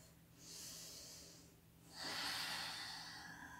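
Breathing during a yoga flow, heard as two slow, airy breaths, a soft inhale followed by a longer, stronger exhale. It is faint and close over a low steady hum.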